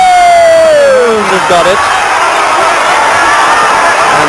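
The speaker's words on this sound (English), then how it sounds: "There's a lot of cheering, as I said." Boxing crowd at a WBO super middleweight title fight roars and cheers after the decision, a loud, sustained wash of noise with a commentator talking over it.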